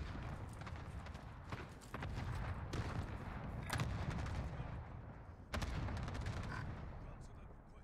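Gunfire in a multiplayer video game, sharp shots popping at intervals over a dense rumbling background, with players talking throughout.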